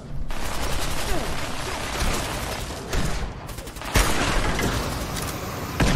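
Rapid bursts of gunfire in Fallout 4 on Xbox Series S crackle almost continuously, with a few sharper booming shots breaking through the dense, loud volley.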